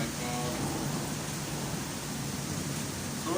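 Heavy rain pouring down during a thunderstorm in Santa Ponsa, a dense, constant roar of rainfall filling the whole stretch at steady loudness.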